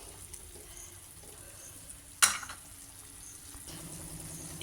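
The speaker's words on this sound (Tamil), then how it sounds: "இப்போ புளிக்காய்ச்சல் கொதிக்குது" Tamarind paste for puliyodarai simmers in a pan, a faint, soft bubbling and sizzling bed, interrupted by a single sharp clatter from a utensil, then the quiet bubbling resumes.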